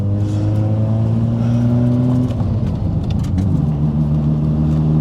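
A loud bridgeport-ported rotary engine in a Mazda RX-7 drones steadily while driving, its harmonic tone holding and then shifting pitch partway through, with no talking.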